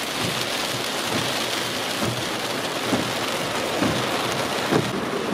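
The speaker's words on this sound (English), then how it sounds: "It's raining harder." Heavy rain pours down in a dense, steady roar, with a few louder splashes and thumps standing out from the constant downpour.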